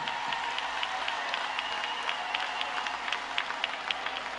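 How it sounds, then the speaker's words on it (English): Applause from a street crowd with Martin George clapping, dense steady clapping heard at a moderate distance, fairly faint and continuous. "Look, Martin George clapping"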